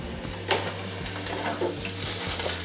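Food frying in hot fat in a deep fryer after a shake of the basket, giving a steady close sizzle with a low electrical hum and a couple of brief metallic clinks.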